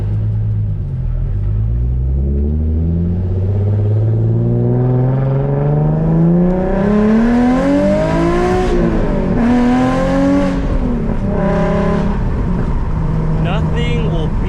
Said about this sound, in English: before we go, I gotta give you guys a few revs.